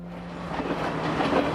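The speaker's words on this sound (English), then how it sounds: "The trains slowly make their way through the winding tracks" A train on the Kandy–Badulla line rolls slowly along winding mountain track through Sri Lankan tea country, a steady close rumble with soft rattling of wheels and carriages.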